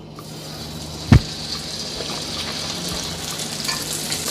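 Dough for fried bakes drops into heated oil in a pot, setting off a continuous close sizzle and bubbling, with a single sharp knock near the start.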